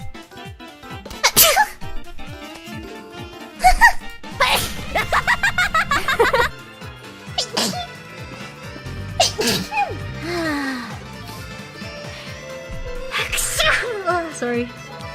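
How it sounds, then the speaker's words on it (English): Several sharp sneezes burst out one after another, loud and close, each a quick explosive puff, with brief vocal sounds and short gaps between them. "I want to sneeze."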